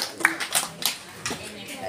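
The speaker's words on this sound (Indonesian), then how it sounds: "Tepuk tangan." A group claps during a traditional coronation and installation ritual for a Nansarunai king, with a handful of sharp, uneven claps over a couple of seconds beneath nearby talk.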